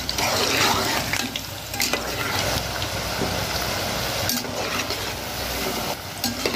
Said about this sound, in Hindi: अब हम इन्हें थोड़ा थोड़ा करके डीप फ्राई करेंगे।